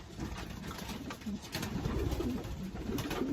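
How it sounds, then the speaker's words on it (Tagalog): Pigeons coo in a racing pigeon loft with soft, rolling low coos repeating close by throughout, over a light background hum and no speech. "Strong looking pigeon."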